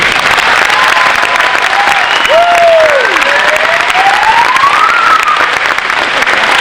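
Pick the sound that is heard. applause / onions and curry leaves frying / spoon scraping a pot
applause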